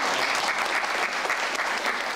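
Audience applause after a clown's magic trick at a children's show, a dense, steady wash of many hands clapping at once, loud and close for the whole stretch with no pauses.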